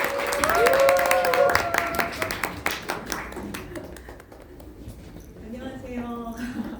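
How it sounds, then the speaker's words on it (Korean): An indoor audience at a health lecture claps in a dense burst of applause to welcome the speaker, loud at first and thinning out, with a voice heard over the clapping. "큰 박수로 맞아주세요."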